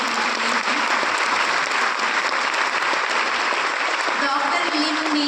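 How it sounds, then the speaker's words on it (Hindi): An audience applauds Dr. Lim after a talk about his book on element reflection, a steady, full wash of clapping lasting several seconds. "डॉक्टर लिम के लिए बहुत बड़ी ताली होनी चाहिए।"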